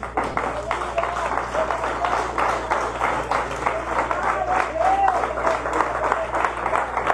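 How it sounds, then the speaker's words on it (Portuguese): A church congregation applauds, steady clapping mixed with murmured voices and a faint tone underneath. "E aplaude ao Senhor por essa palavra."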